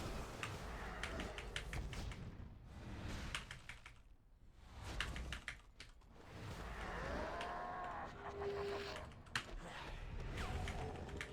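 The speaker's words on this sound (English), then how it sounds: "It's actually just a keyboard sound I superimposed over the stream" Rapid computer keyboard button presses clatter in quick irregular bursts through a busy game stream mix with music and game sounds, the clicks fairly faint under the other audio.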